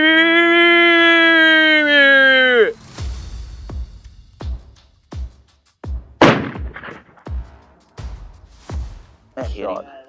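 Rifle shots striking a hunted animal during a hunt in Australia's Northern Territory, heard as a series of sharp cracks and thumps spaced about a second apart after a long sustained tone.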